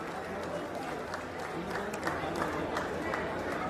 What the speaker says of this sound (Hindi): हमारे यशस्वी प्रदेश अध्यक्ष जी जोरदार तालियों से अभिनंदन स्वागत करेंगे